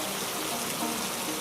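Steady heavy rain in a cartoon forest scene, a dense continuous hiss of falling water with no breaks across the whole stretch, fairly loud and even, with no voices over it.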